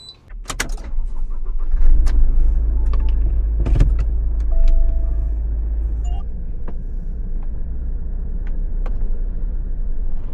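An Isuzu Elf Mio-based Travio Hayate compact cab-over camper van pulls away and drives on, its engine a steady low rumble inside the cab after a few clicks and thumps at the start.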